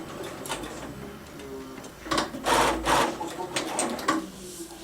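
A Dürkopp Adler D867 Delta flatbed sewing machine running in short bursts of fast mechanical stitching and clicking, close and moderately loud, with pauses between runs.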